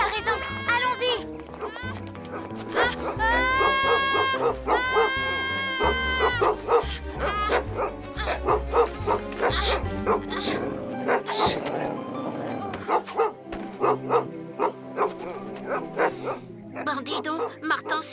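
A cartoon dog yips and barks in quick bursts amid music and animated voices, with whimpering touches, close and lively throughout a countryside scene.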